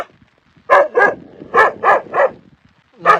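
A dog barks at night in the Bhuleshwar ghat, sharp and clear, in uneven bursts: two barks, a pause, three more, then another starting, with no talking.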